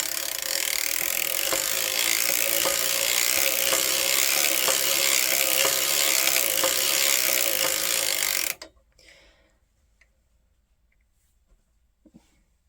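Circular sock knitting machine being cranked around, giving a steady rhythmic mechanical clicking and ratcheting for about eight seconds, close and fairly loud, before it stops and only faint handling noises remain.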